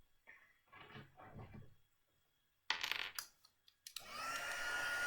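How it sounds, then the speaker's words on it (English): A heat embossing tool blowing hot air over stamped cardstock in a craft room, a loud steady whoosh that starts after a few faint knocks and handling noises, then runs continuously to the end. "now I'm going to bring in my heat tool"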